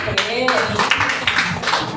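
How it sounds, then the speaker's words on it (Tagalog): A church congregation at a Sunday service claps in a quick, uneven burst of many hands, fairly close, mixed with voices speaking over it. "Palakpak naman po sa Panginoon."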